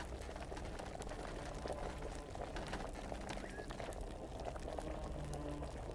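An alchemy cauldron bubbles over a fire in the medieval game Kingdom Come: Deliverance, a continuous dense boiling and gurgling wash that holds steady and close throughout, with no talking.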